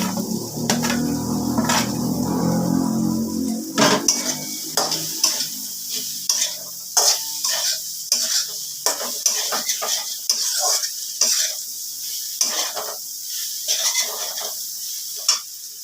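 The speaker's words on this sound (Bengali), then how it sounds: "এবার আলুটা দিয়ে দিলাম" Potatoes drop into a hot pan with ground cumin and other spices for an aloo matar paneer curry: a loud burst of sizzling, then a run of rhythmic spatula scrapes and metallic clinks as the mixture is stirred.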